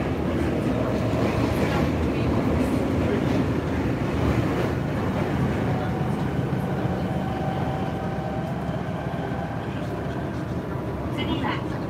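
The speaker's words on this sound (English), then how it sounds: "this train doesn't stop at Shinjuku" Steady rumbling interior noise of a commuter train running through Tokyo toward Kawasaki, a continuous loud drone with faint voices mixed in throughout.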